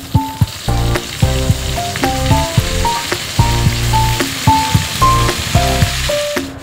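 Pork frying with potatoes, onions and chillies gives a loud sizzle in the pan, overlaid by rhythmic, tonal metallic clangs and scrapes from vigorous stirring throughout, with no speech.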